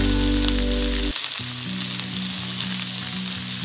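Onions and chopped potato frying in a pan for wheat rava pongal, a dense, continuous close-up sizzle over a steady tonal background of sustained notes.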